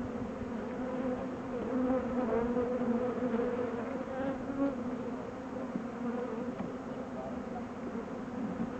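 Honeybees buzz steadily in an opened spring hive, a dense, continuous close drone that holds at an even level throughout with no break.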